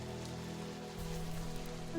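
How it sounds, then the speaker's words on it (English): Steady rain patters as ambient background during a tabletop role-playing session, with a low sustained hum underneath and no voices. "Are we like in the rain"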